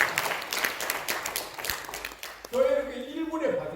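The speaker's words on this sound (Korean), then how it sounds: "한 박수 해드려요" A church congregation claps during a Korean sermon, scattered applause for a couple of seconds before a voice resumes speaking over the fading claps.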